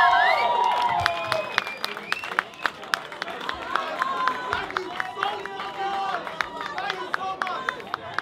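A live crowd at an Emergenza band contest bursts into applause and cheering after a rock band's set, with dense clapping, scattered whoops and a sustained roar filling the venue, and voices calling out through it.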